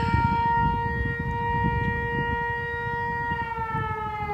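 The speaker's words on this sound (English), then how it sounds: "Those sirens." Outdoor warning sirens sound steady, sustained wailing tones that hold continuously and fairly loud, with a low background rumble and no talk over them.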